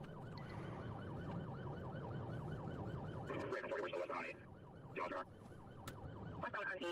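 A wailing ambulance siren from Grand Theft Auto cycles up and down for a few seconds, then breaks into game noise and clatter, faint and distant in the mix.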